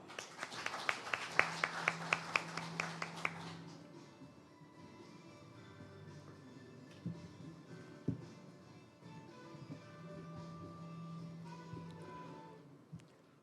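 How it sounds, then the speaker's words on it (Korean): A crowd at a youth forum launch event in Ulsan claps for a few seconds to welcome a speaker. The applause is faint and dies out quickly, leaving a quiet room with scattered small noises. "여러분 뜨거운 박수로 환영해 주십시오."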